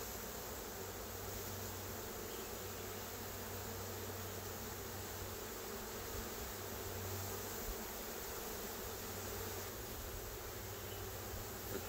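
A honeybee swarm buzzes around its queen during a swarm recovery in a tree, a steady, dense hum of many bees at close range, continuous and fairly quiet, with no voices.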